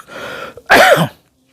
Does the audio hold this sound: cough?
yes